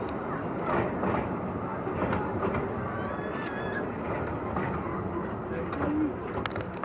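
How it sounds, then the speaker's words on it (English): The Legoland Express ride train at Legoland Windsor Resort rumbles along steadily with continuous rolling noise and faint squeals, heard from on board, with a voice and a cat-like cry briefly over the top. "Your journey on the Legoland Express is coming to an end"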